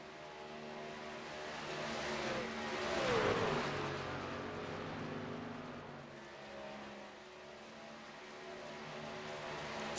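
Racing trucks roar around a superspeedway in a video game as a dense, continuous engine drone that swells to a peak around three seconds, then settles into a steady hum with faint passing sweeps.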